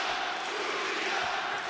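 Wrestling arena crowd at an AEW Dynasty event, a steady broadband roar of cheering and shouting that holds loud and unbroken, with no single voice standing out.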